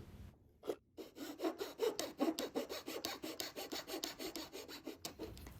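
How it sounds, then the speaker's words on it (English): Thin quarter-inch wood strip being hand-sawn in a metal miter box: a steady run of close, rasping back-and-forth strokes, about twenty in quick rhythm, ending abruptly as the cut finishes. "I'm just going to cut it into 4 even pieces using this metal miter box that I have"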